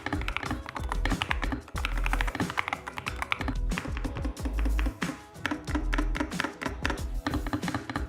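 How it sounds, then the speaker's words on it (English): Rapid, clattery typing on a mechanical keyboard, a dense stream of close key clicks and thocks with brief bursts of faster strokes. "here is a quick sound test of this gaming keyboard"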